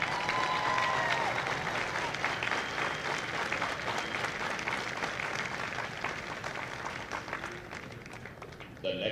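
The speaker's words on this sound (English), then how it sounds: "please join me in a round of applause for the company staff of Company K" Audience applauding at a Marine recruit graduation ceremony, a broad steady wash of clapping from a large outdoor crowd, fairly distant and continuous, fading slightly toward the end.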